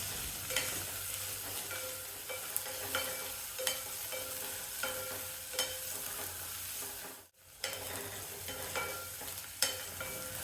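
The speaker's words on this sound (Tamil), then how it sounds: "மீடியம் சைஸில் 2 வெங்காயம், 4 பச்சை மிளகாய், வெங்காயம் செவக்கிற வரைக்கும் வதக்கணும்." Two medium onions and four green chillies sautéing in a pan, giving a constant sizzle with regular scraping stirs and light clicks of a spoon, close and steady, with one brief pause in the middle.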